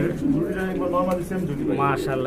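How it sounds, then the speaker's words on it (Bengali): Soft, throaty coos of Bombay pigeons repeat close by, over a steady background murmur. "এখানে কিন্তু আরো এক জোড়া কবুতর দেখছেন"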